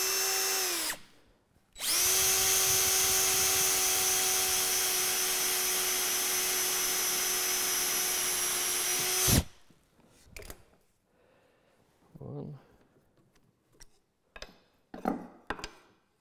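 A power drill whines loudly and steadily for about seven seconds drilling into a piece of wood, then cuts off, followed by a few quiet clicks and knocks.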